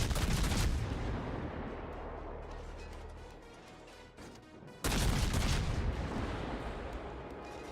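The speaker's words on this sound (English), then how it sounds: "Just look at all these shots going out by Gonzo though." In World of Warships, a warship's guns boom out high-explosive shells in heavy, sustained salvos, with a brief lull before another loud burst of rumbling fire.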